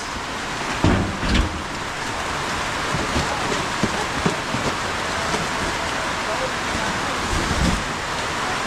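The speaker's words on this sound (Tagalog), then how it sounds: "Gustong gusto nila dito kasi umuulan sa labas." Steady rain pours continuously, a dense hiss of drops with a few louder knocks, while voices speak intermittently underneath.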